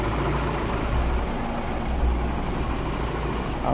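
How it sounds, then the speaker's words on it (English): A tuned car's engine idles roughly and steadily, a continuous low rumble with a faintly uneven, lean-sounding character, close and loud without any talking. "I don't know why it's idling like that."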